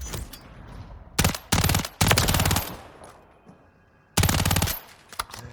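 Uzi Pro submachine gun, a 9x19 Parabellum SMG in Call of Duty: Modern Warfare III, fires several loud full-auto bursts with short gaps between them and a fainter sputter at the end.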